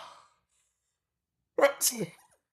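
A single close, sharp sneeze bursts out after a short breathy sound and a long silence.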